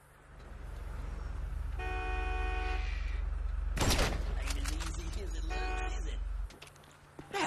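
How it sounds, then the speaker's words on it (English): Gunfire during target practice in the video game GTA 5, with a loud cluster of sharp shots at the middle and scattered cracks after, set against a steady low game drone, electronic tones and a voice talking. "That was some damn fine shooting, Trevor."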